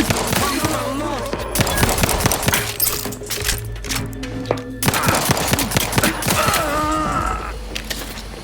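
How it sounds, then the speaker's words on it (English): Gunfire and gunshots in The Outer Worlds 2 video game, a busy, dense stretch of rapid sharp cracks and bursts mixed with game voices and ambient music. "I've heard gunshots, screams."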